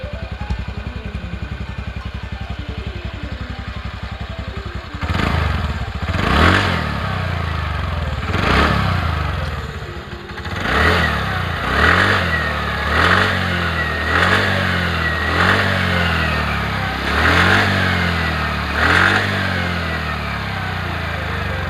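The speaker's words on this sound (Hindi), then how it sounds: "अभी हम इसको ऑन करके देखेंगे इंजन, इसका साउंड, जो सबसे मेन फीचर है इस स्कूटी का दोस्तों।" A TVS Ntorq 125 cc BS6 Race Edition scooter starts up after a brief cranking and idle, then revs repeatedly in a steady series of rising and falling throttle blips, loud and close with no talk over it.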